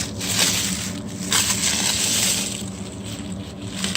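A mold being peeled away from a freshly cast hypertufa plant saucer gives close crinkling and crunching with a few soft scraping bursts, heard alone without speech.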